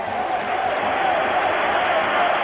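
Roman football crowd at the Stadio Olimpico, AS Roma against Dundee United in a 1983-84 European Cup semi-final, roaring steadily at half-time, a dense continuous wall of cheering with no break.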